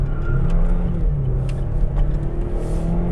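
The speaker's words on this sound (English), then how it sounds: "when you beat this car like I'm gonna do right now" A 2015 Buick Verano driven hard, its engine droning steadily under acceleration with a continuous low rumble and road noise throughout, heard from inside the car with no talking.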